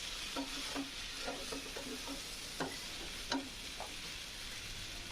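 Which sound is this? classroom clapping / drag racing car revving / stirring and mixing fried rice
stirring and mixing fried rice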